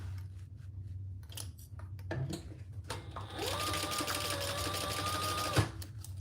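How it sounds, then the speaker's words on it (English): Home sewing machine stitching around the edge of fabric, a steady close mechanical whir running for a few seconds after some handling clicks and rustles, stopping abruptly. "Now I'm going to sew all the way around this side"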